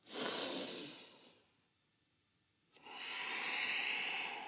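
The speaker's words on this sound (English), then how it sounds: "Soft knees, breathe in. Fold over the legs. Inhale." Two deep, loud breaths of a yoga practitioner during a standing forward fold: a long airy rush, a near-silent pause, then a second steady breath, close to the microphone.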